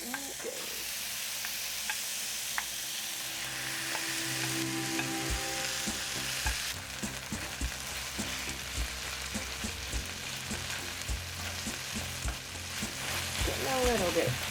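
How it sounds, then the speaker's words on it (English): Marinated chicken dropped into a hot pan with onions sizzles and fries steadily, a loud continuous crackle with occasional stirring scrapes and clinks, no talking. "You can just see it sizzling right away."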